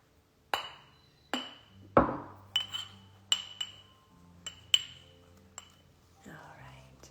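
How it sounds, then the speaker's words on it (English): Ingredients are mixed together in a bowl in a home kitchen, heard as a series of about nine sharp clinks and taps, mostly separate, spaced unevenly, close and fairly loud, with soft whispery sounds between them. "now, I'm going to mix this together."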